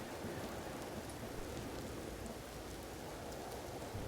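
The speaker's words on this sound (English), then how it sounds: "Thank you, game. I always wanted to build in the rain." Steady rain falls in the space survival game Empyrion Galactic Survival, a constant broadband hiss of drops with no break across the moment and no voices over it.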